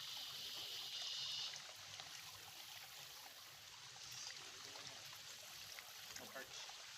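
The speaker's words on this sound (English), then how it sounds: "It's just a little creek" Gentle trickling and babbling of water in a small, shallow creek about a foot deep at its deepest point, a faint steady flow heard from nearby.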